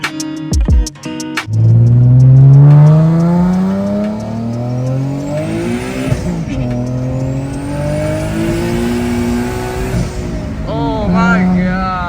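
Boosted Nissan 370z engine pulling hard in third gear, its pitch climbing steeply through the revs with shifts and a brief squeal, loud and close, with excited shouting over it.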